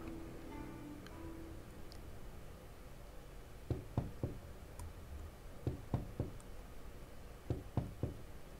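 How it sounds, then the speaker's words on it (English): Knocking on a window late at night comes as three groups of sharp raps, each a quick double or triple knock, spaced a couple of seconds apart over a low steady background hum. "There's someone knocking at my window."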